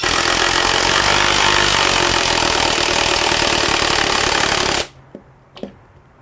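Klein BAT20-CW brushless compact impact wrench with a socket driving a lag bolt with a 7/16 inch head, a loud continuous hammering whir for nearly five seconds that stops abruptly, followed by a couple of faint clicks.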